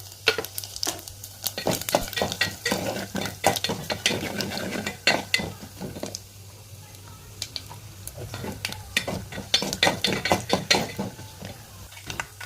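Upma ingredients fry in hot oil in a pan, with a steady sizzle broken by repeated clinks and scrapes of a spoon stirring, the clatter coming in busy bursts.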